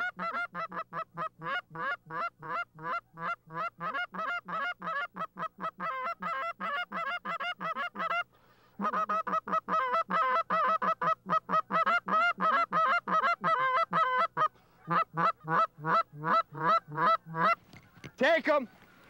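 A large flock of geese honks continuously in rapid overlapping calls, steady and fairly near as the birds pass overhead on a waterfowl hunt, with a brief lull midway.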